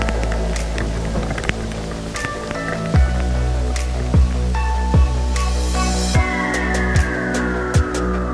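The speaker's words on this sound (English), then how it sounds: "It's actually starting to hail right now." Hail and rain fall in bad weather in the Lake District's Borrowdale Valley, a dense steady patter of drops and sharper ice hits close by, with a few heavier dull knocks recurring every second or so.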